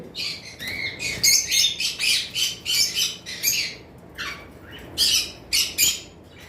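Lovebirds, including albino birds, in a breeding collection give loud, close, repeated shrill squawks and chirps in uneven bursts, with no talking.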